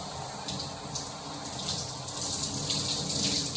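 Water from a tap runs steadily while rinsing through starter locks, a close, continuous gush and splash with faint shifts as the hair is moved under the stream.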